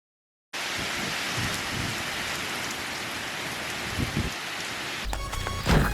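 Steady rain falling on a wet, overcast day, a dense even hiss with a few heavier spatters, continuous and fairly loud, ending with some louder nearby patters and drips.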